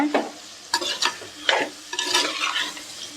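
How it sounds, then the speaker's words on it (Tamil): Pallipalayam chicken being stirred in a pan over a high flame, with repeated scraping strokes of a spoon against the pan over a steady close sizzle of frying, no voices. "அடுப்பை ஹை ஃப்ளேம் வச்சுட்டு நல்லா கிளறி விட்டுக்கோங்க"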